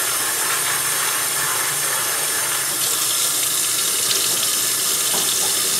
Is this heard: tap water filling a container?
yes